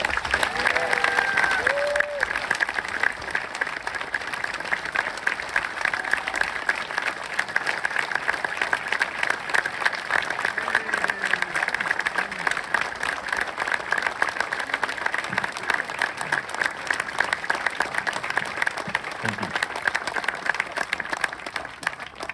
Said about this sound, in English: let's equal that applause now in welcoming Captain Brett Crozier to the podium